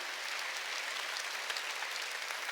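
Steady applause from a church congregation at a Sunday worship service, a dense, even wash of many hands clapping at moderate volume with no voices over it.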